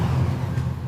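Exhaust of a 2020 KTM 1290 Super Duke GT motorcycle, a deep, steady low rumble at idle, close and fairly loud for a brief moment.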